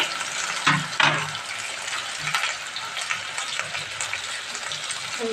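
Green chili paste frying in a pan: a steady, loud sizzle and hiss with a few clattering stirring knocks early on, and no voices.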